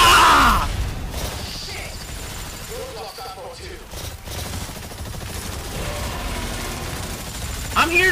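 Gunfire in the Exoprimal video game amid a dinosaur fight, rattling bursts of shots running through the whole stretch, moderately loud with a sharper burst near the end, overlaid by game effects and a voice talking.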